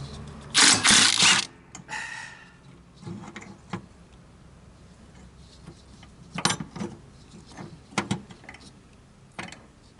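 A pulley comes off a Husqvarna YTH21K46 riding mower with a loud metallic rasp of tools, then scattered clanks, ratcheting clicks and knocks of metal parts at close range, without talk.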